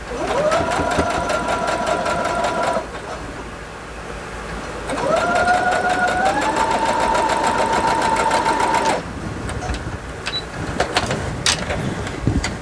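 A sewing machine runs a back stitch on a quilt project, two bursts of steady whirring motor with a rapid needle rhythm, separated by a short pause, followed by a few faint handling clicks.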